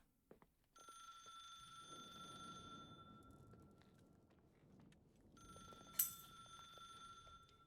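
A telephone rings behind a wall in the video game The Suicide of Rachel Foster, a muffled repeating bell in two bursts separated by a gap, faint against low room ambience.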